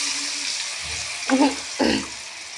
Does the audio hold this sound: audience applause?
no